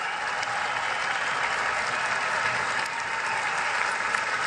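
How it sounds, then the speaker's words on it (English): A stadium crowd at a NASCAR race applauds military service members, a broad, steady wash of clapping and cheering from a large audience that carries on without a break. "Let's give these brave men and women a round of applause."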